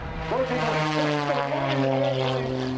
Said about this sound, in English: There is an 8, a 9, a 10G pull into a high-speed turn on the wingtip.